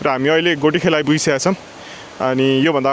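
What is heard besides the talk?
No everyday noise stands out behind the speech.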